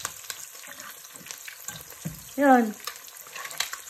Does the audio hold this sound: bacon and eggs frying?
yes